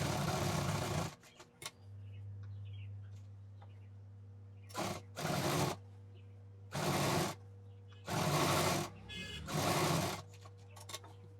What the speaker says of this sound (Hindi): उसी पर हम मशीन चला रहे हैं